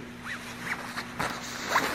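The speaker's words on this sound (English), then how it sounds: "I'm going to zip it up." Zipper being pulled up on a packable puffer coat, a few short rasping zips close to the mic in a quiet room.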